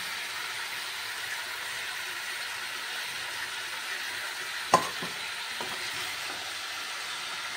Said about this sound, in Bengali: এবারে টমেটোগুলি দিয়ে দেব।